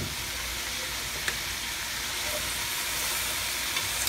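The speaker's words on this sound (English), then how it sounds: "We're going to add a little bit more oil here." Oil and vegetables sizzle steadily in a pan, a continuous broadband hiss with faint crackles and a couple of small pops, close and fairly loud, with no voices.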